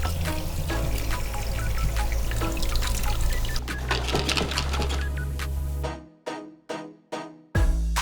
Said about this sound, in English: poured in the Jinchan solution.